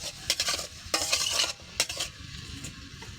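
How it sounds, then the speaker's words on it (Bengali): Cloves, cinnamon and cardamom with bay leaves fry in a pot on a clay stove, a soft sizzle under several stirring scrapes and metal clinks, close and moderately quiet. "লং, দারুচিনি, এলাচ হালকা নিয়ে এখন লাল ব্রাউন করে ভেজে নেব।"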